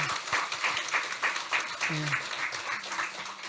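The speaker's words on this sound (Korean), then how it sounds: "우리 함께 우리 경의의 박수 하겠습니다." A church congregation at a New Year thanksgiving service applauds a combined choir, with a dense, steady patter of clapping and voices mixed in.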